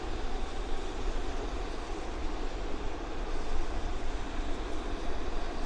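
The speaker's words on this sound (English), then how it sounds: "There we go. Airplanes are moving." Jet airliners taxi at a snowbound Vancouver International Airport, producing a steady, loud, broadband engine roar that swells slightly but never stops.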